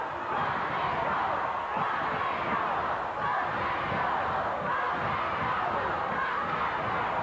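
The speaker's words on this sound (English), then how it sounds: "Listen to the crowd." Packed arena crowd at a 1987 NWA Television Title wrestling match between Tully Blanchard and Robert Gibson, a continuous loud roar of cheering voices holding steady throughout.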